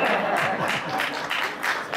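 Audience applause at a conference in Ottawa, a continuous even patter of many hands clapping at moderate volume for the whole stretch.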